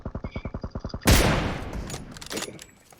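A quick string of about ten evenly spaced gunshots in PUBG Mobile, then a loud close blast with a long ringing decay and faint scattered clicks afterward.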